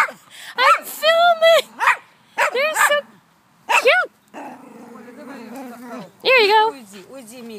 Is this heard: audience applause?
no